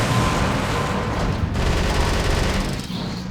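Missiles explode in the video game Metal Wolf Chaos XD amid heavy rapid gunfire, a loud, unbroken fusillade of booms and bursts sustained throughout with no pauses.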